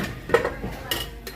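Pot of squash and string beans being stirred, a few metallic clinks and scrapes of a utensil against the pot in short separate strokes.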